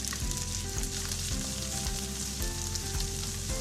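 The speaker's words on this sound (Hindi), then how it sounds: "वन टेबल स्पून के करीब ऑयल ऐड करेंगे। बंद गोभी ऐड करेंगे।" Shredded cabbage frying in about a tablespoon of oil, a loud, dense, continuous sizzle with bursts of crackle and occasional stirring scrapes, heard up close with no talk.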